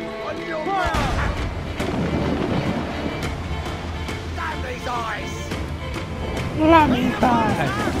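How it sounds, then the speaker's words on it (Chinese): Heavy ship cannons in Assassin's Creed 4: Black Flag boom across the water amid rumbling wind and sea noise, with a louder blast near the end and game voices underneath. "这炮有这么猛，这么远都打得到"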